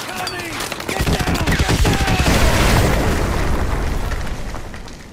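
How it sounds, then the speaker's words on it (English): A danger-close artillery strike in a video game: after a brief quiet moment, a heavy barrage of booming explosions and rumbling blasts erupts and rolls on, loud and close, with voices faintly underneath. "Fire mission. Danger close."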